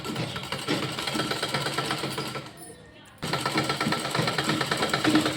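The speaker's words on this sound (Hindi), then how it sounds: "और बैक साइड से अब रखते हुए इस पर सिलाई लगा देंगे राउंड में" Sewing machine stitching round a kurti neckline, a fast continuous whirring chatter that cuts out briefly midway before resuming loudly.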